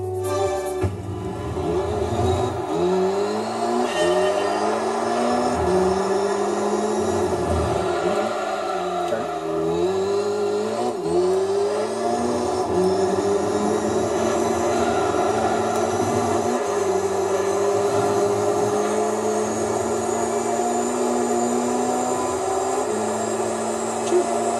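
Mazda RX-7 Type RS (FD) racing engine in Gran Turismo 3, a loud, steady rotary drone that rises and falls through repeated gear changes and throttle lifts over a race run, with no talking.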